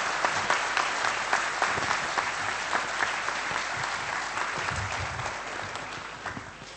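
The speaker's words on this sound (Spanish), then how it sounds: "yo les pido un aplauso para el excelentísimo señor alcalde" An audience at a general assembly in Guía de Isora applauds the town's mayor with sustained, dense clapping that stays strong and fades slightly toward the end.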